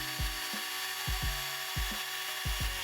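A small hand drill with a 1.5mm bit works out the rivet post of a diecast Matchbox No. 25B Volkswagen model, giving a steady whine broken by regular low grinding thumps, close up.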